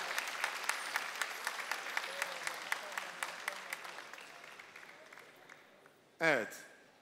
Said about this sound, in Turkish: Üçüncülük ödülü kocaman alkışlar.